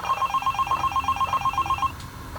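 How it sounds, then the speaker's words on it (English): A telephone bell rings in a fast, steady trill of repeated electronic pulses, close and clear, then stops abruptly near the end, with no voices. "when the phone rang."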